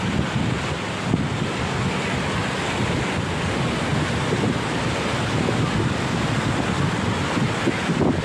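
Surf rolls in at Patong Beach under strong gusting wind that buffets the microphone, a constant loud roar of waves and wind with no pauses.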